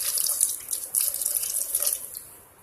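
Water pours steadily into a pot of chopped broad beans, pumpkin and sweet potato for a South Indian mixed-vegetable kootu, a close, bright splashing stream that tapers off near the end.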